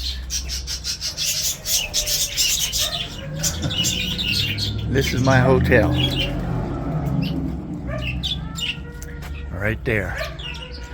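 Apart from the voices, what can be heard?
ringneck doves and parakeets calling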